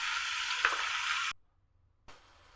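Fried potatoes sauté with salt and turmeric in a pan for shim aloo posto, giving a close, steady sizzle that cuts out abruptly, goes silent, then resumes.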